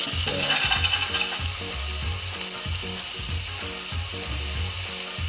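Watermelon fries in a small amount of oil, giving a steady, close sizzle and crackle with rhythmic scraping and stirring strokes repeating throughout, with no voices.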